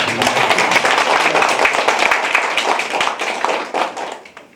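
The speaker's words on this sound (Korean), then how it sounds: "말씀해주신 이근우 박사님께 박수를 치면서" An audience at a book talk claps for a speaker, brisk crowded hand claps close to the microphone that keep going and then thin out and fade toward the end.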